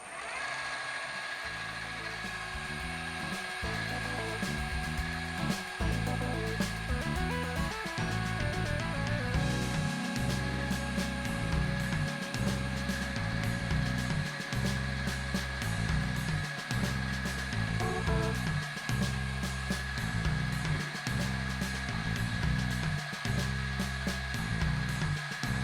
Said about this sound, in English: So I can drill these holes here now